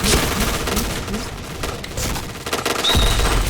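Rapid gunfire bursts in the video game Point Blank crack repeatedly in quick succession, loud and close, with several sharp shots overlapping in a dense volley.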